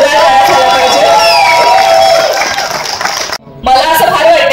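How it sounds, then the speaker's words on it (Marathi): A theatre audience applauds and cheers loudly for Nitin Supekar, writer of the 1998-set Marathi film Illu Illu, with a dense crowd roar and whistles that briefly drops out before surging back. "नितीन सुपेकर यांच्यासाठी जोरदार टाळ्या झाला पाहिजे"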